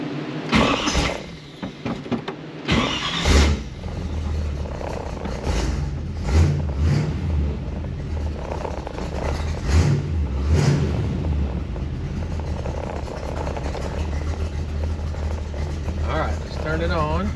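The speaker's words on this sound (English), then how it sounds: "Let's go ahead and start the car." A car engine cranks and catches, then runs through irregular revs and bursts of throttle, with loud thumps and clatter along the way before settling into a rough steady idle.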